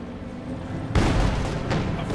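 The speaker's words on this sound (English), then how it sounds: "And another light artillery barrage is ready." A light artillery barrage lands in the World War II strategy game Company of Heroes 2, a sudden deep booming impact about halfway through followed by continued rumbling blasts over steady battle noise.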